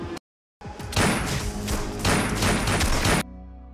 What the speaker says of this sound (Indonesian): Akhirnya Risi dan para anak buahnya memberondong peluru kepada Kapolda hingga tewas